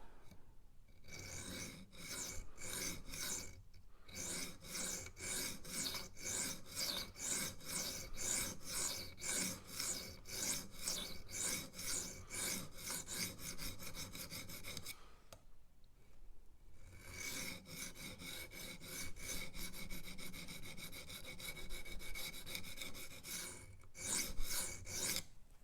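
A Rough Ryder Half Hawk pocketknife is sharpened with 3D printed angle guides, giving steady rhythmic rasping strokes on the stone, close and moderately quiet, with two brief pauses.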